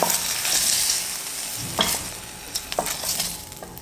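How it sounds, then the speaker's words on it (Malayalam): Fried paneer is stirred into sizzling vegetables in a pan, giving a constant loud sizzle with a few sharp scrapes and clinks of the spoon, and no voices. "ഇനി ഞാൻ ഇതും കൂടെ ഈ ബാക്കിയുള്ള പച്ചക്കറികളുടെ കൂടെ ചേർക്കുകയാണ്."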